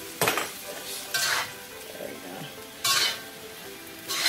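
Fresh broccoli stirred into lo mein sauce in a pan, three or four short bursts of scraping and clinking utensil strokes separated by quieter simmering gaps.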